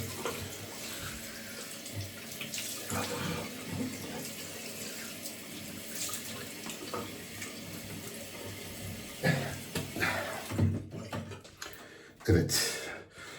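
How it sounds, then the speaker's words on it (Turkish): Cold tap water runs from a faucet into a sink as a face is splashed and washed during a morning shave, a steady close rushing stream with brief louder splashes near the end. "Şimdi yüzümü soğuk suyla yıkıyorum arkadaşlar."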